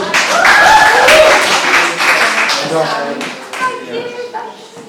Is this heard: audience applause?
yes